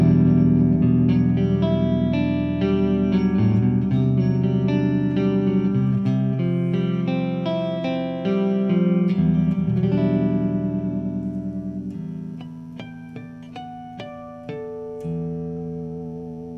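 A Framus Wolf Hoffmann WH-1 electric guitar on its neck pickup plays clean, warm, flowing arpeggiated chords, notes ringing and overlapping, alone without talk, fading slightly toward the end.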